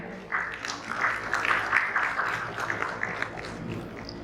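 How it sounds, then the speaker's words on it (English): Audience at a corporate presentation gives a round of applause, moderate clapping that swells in the middle and then tapers off, heard somewhat distant in a hall. "Can we have a huge round of applause for him?"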